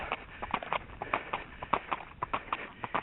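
A large horse's hooves clip-clop in an uneven, quick rhythm of sharp hits over faint background noise, somewhat distant and muffled.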